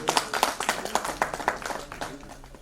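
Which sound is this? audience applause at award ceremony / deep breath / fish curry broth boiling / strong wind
audience applause at award ceremony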